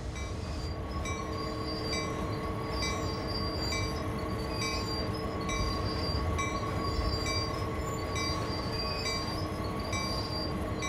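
An SD40-2 diesel locomotive braking to a stop in the Train Sim World 2 game, a constant heavy rail rumble topped by high, repeating wheel and brake squeals, steady and fairly loud with no talking.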